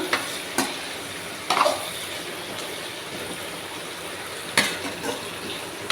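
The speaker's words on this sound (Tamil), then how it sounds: "பாவக்காய் வந்து நல்லா வதங்கணும்" Bitter gourd sautés in a pan over a medium flame, giving a continuous low hiss of frying with several short knocks and scrapes as it is stirred, spaced irregularly.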